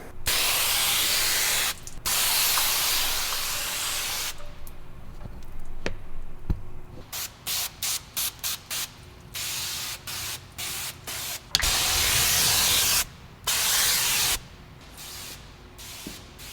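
Degreaser is sprayed onto a street sweeper in loud, close hissing bursts, some long and sustained, others short rapid pulses separated by brief pauses.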